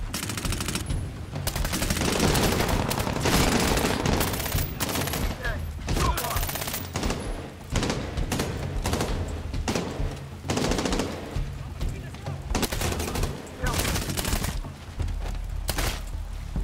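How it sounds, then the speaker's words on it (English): Sustained SMG fire in the Medal of Honor: Warfighter video game, dense rapid bursts with brief gaps, loud and continuous throughout, with game effects mixed in. "Oh, the SMG has unlimited ammo."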